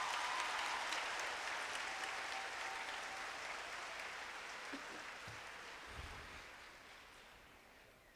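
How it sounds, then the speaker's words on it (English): Dense applause from a graduation audience fills the space at a steady roar, then slowly thins and fades toward the end. "give yourself a round of applause for being in the building this morning"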